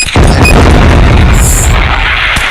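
A dense, loud roar of overlapping booming bomb blasts in a shooting video game, explosions rumbling continuously with bright crackling debris on top.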